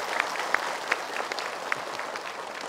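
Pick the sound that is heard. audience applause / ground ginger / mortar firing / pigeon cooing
audience applause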